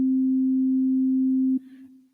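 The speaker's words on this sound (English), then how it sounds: "If you take a sine wave, it sounds like this." A pure synthesizer sine wave, the plain Moog-style kind, holds one steady unwavering pitch, loud and alone for about a second and a half before cutting off abruptly into a faint tail.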